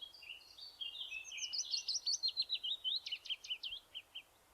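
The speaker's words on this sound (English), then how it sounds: "So here's the song of the willow warbler." A willow warbler in Monkstown, Ireland sings a single clear phrase of sweet, rapid notes that descends gradually and fades out, bright and fairly close against a quiet background.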